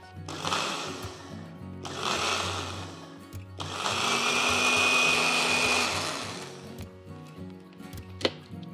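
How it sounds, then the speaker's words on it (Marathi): A mixer grinder purees cooked red pumpkin together with its cooking water, whirring loudly in three separate bursts, the last one longest, with short quiet gaps between them. "लाल भोपळा काय करायचा, त्यातल्या पाण्यासकट मिक्सरच्या भांड्यामध्ये काढून घ्यायचा आणि याची छानपैकी प्युरी तयार करून घेऊयात."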